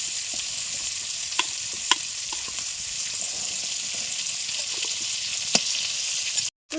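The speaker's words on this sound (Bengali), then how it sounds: "চিংড়ি মাছ ভাজতে খুব বেশি সময় লাগবে না।" Prawns fry in hot oil with a steady bright sizzle and a few scattered sharp crackles, close and even throughout, cutting off abruptly near the end.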